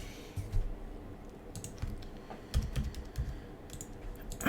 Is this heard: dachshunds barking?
no